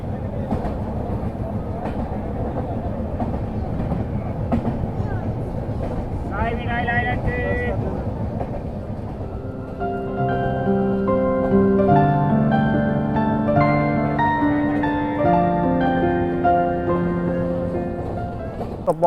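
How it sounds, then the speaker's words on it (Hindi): Purushottam Express rolls along the rails after a short stop, a steady rumble and wind noise building into rhythmic clickety-clack, with tonal horn or brake whines appearing as it gathers speed. "बबुआ रोड से भी पुरुषोत्तम निकल चुकी है"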